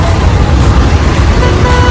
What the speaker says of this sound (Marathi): तर भावांनो परत ट्रॅफिक लागले आम्हाला इथं